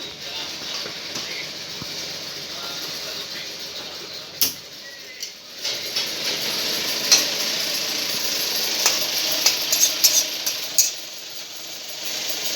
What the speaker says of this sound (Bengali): সর্ষের তেলের ভিতরে 5 ফোড়ন আর তেজপাতা ফোড়ন দিয়েছি। এখন আমি এগুলোকে ভেজে নেব